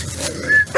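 A puppy gives short yips and whimpering barks, close and loud, in a brief burst outdoors.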